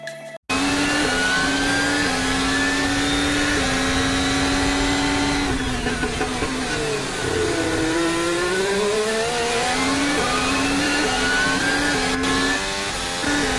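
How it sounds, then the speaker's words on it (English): A Formula 1 car laps the Singapore Grand Prix circuit with a loud, close, high-pitched engine whine that rises and falls as it accelerates, shifts and slows through corners, running continuously with no talking. "at T13 exit he had a small correction and went to full gas later than Veer"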